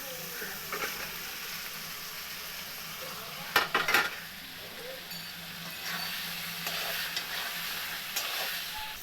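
Egg and potato sautéing in spiced oil with red chilli powder, a quiet steady sizzle throughout, broken by a burst of spoon-against-pan stirring scrapes and later softer stirring, close by.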